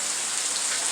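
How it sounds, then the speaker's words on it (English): Steady afternoon rain pours down in Ubud, Bali, a dense, even hiss of drops on surfaces, loud and close, continuous with no voices. "you can get to continue enjoying the rain in the background"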